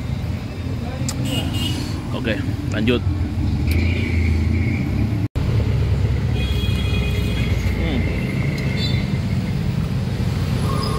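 Weekend traffic jam on Jalan Monumen Emin Sayalan in Makassar, a constant rumble of cars and idling engines with occasional horns, under close talking and street chatter.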